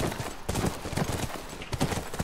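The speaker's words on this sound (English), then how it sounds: "it's keeping up with how fast I'm going on the horse" Horse hooves galloping in The Last of Us Part II, a fast, steady clip-clop of hoofbeats at close range with no talk over it.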